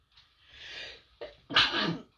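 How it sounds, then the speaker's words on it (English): A single sneeze, close and fairly loud: a short breathy intake, then a sharp burst that tails off into a hiss. "so there's a good chance I might sneeze in a moment."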